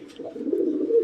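Pigeons coo at a pigeon farm, a single low, rolling coo lasting about a second, close by and fairly steady, with no talking.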